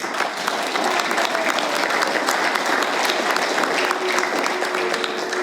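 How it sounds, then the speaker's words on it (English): A crowd at a city council meeting claps loudly and steadily, a sustained wave of applause that holds at full strength throughout. "Round of applause, please."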